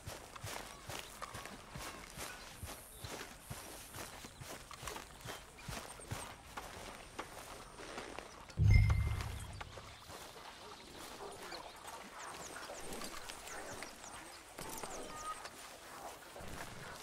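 Hooves clop in a steady, fast rhythm as horses gallop in Red Dead Redemption 2 on PC, moderately loud under game ambience, with a heavy low thud partway through.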